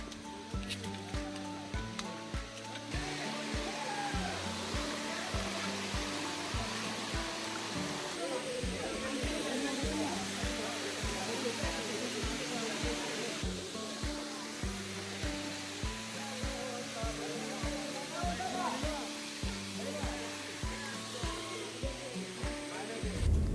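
Steady rushing water from the first tier of Khoiyachora waterfall hisses throughout, partly buried under rhythmic background music with a repeating low beat.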